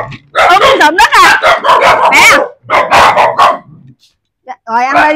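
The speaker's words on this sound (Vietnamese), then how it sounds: "nó ít tiếp cận với người nên là nó gặp nó sủa dữ lắm" Dogs that rarely meet people bark fiercely at visitors, a loud, close run of repeated barks and yips with a short gap before a final volley.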